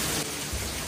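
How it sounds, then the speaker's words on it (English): Rushing runoff water after heavy storms and torrential rain near a cave cabin site, a steady broadband wash with no speech. "In the background, all the water running in the video, and that's because we had bad storms last night and torrential rain."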